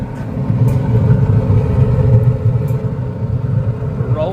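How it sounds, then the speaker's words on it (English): Steady low motor hum from the auger of a Pit Boss pellet grill running after a swollen pellet jam was cleared, continuous and even throughout. "Auger's working"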